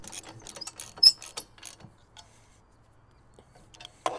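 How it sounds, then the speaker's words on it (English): A 3/4 inch socket driving a bolt into a Jack-It 2 bike carrier unit gives a quick run of close, sharp metallic clicks and ratcheting ticks, then a quiet pause and one last click. "you use a 3/4 inch socket to put it in"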